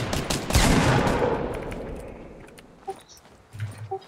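Gunshots in a video game, a loud burst of fire up front that tails off into quieter scattered sounds, with no talking.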